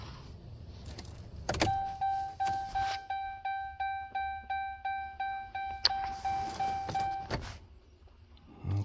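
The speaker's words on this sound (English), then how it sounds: "Once it's flashing green, turn the ignition off." Inside a 2012 Ram 1500 Tradesman pickup, a key jangles and a rapid train of regular electronic chimes or ticks repeats for several seconds as the ignition is switched off, then stops into quiet.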